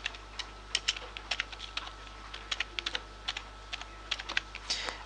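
Someone types a short phrase on a computer keyboard, a quick run of crisp, close key clicks with small pauses between bursts over a faint steady hum.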